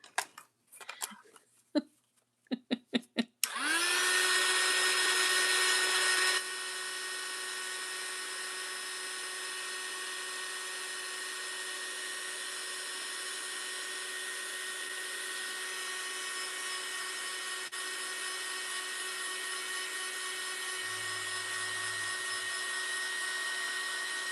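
A heat tool drying a junk journal spread runs as a steady, loud, high-pitched whirring blower after a few handling clicks and taps, holding on continuously for about twenty seconds.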